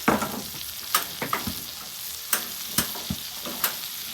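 Butter sizzling on a hot flat top griddle while cooking pork tenderloin, a steady close frying hiss broken by sharp clicks and scrapes of a spatula stirring, with no talk.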